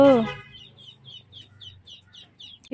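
Village chickens give a steady run of soft, evenly spaced clucks at close range, following a brief burst of voice at the start.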